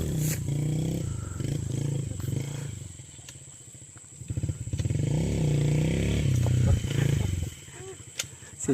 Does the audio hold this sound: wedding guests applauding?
no